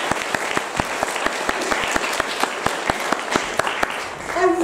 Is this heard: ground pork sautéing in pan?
no